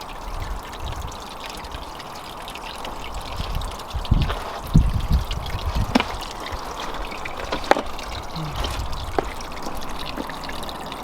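Water from a pump pours steadily into a wildlife pond, making a continuous splashing rush with a few louder splashes and drips rising over it partway through.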